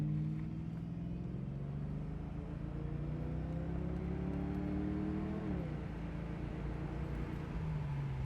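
A 1988 Ford Mustang convertible pulls away from a green light, its engine droning steadily and rising in pitch with one brief dip as it shifts. Heard from inside the car, fairly faint, with continuous road noise.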